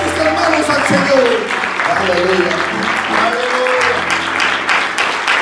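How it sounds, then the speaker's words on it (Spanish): A church congregation claps their hands in worship, a steady rhythmic clapping layered with singing or voices and organ-like sustained tones throughout. "Aplaudamos nuestras manos al Señor."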